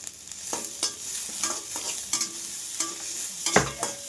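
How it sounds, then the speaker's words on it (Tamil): Onions sautéing in a pan, with a steady soft sizzle and repeated scraping stir strokes from a spatula, close and fairly quiet, with no talking. "வெங்காயம்லாம் நல்லா வதங்கட்டும்."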